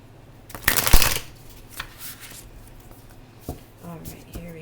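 Tarot cards are shuffled up close: a quick burst of riffling and flapping cards, then softer scattered slides and taps as the deck is squared.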